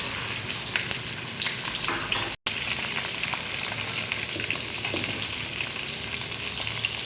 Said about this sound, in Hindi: अब हम भिंडी डालेंगे और फ्राई कर लेंगे।